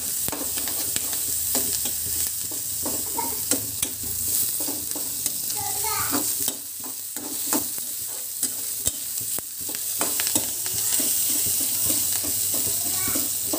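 Onion and raw green chilli sizzle and fry in a pan, a steady crackling hiss running throughout with occasional stirring scrapes and clicks, fairly close and continuous.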